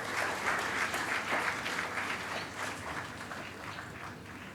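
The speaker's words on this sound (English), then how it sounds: "With a round of applause, let's welcome Chef Niyati Vaid." An audience at an entrepreneurship conclave applauds to welcome a speaker, dense steady clapping from a moderately sized crowd that eases slightly toward the end.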